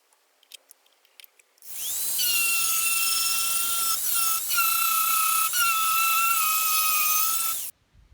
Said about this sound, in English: that's half the roof sanded off, and you can really see a difference